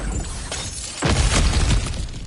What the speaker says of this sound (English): back to smashing few things for fun and profit